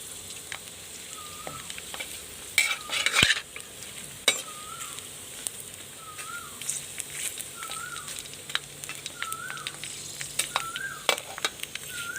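Pork rinds sizzling steadily in hot oil in a pan, a continuous close crackle with occasional scrapes and clinks of stirring, no talking.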